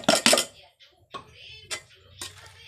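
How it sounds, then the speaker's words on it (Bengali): A spoon scrapes and knocks against a metal pot as a mango pickle mixture with powdered spices is stirred, giving a few sharp clinks and scrapes close by, with soft scraping between them. "এইগুলোকে ভালো করে নেড়ে চেড়ে নিচ্ছি, দিয়ে তারপরে সব মশলা গুঁড়োগুলো দিয়ে দিচ্ছি।"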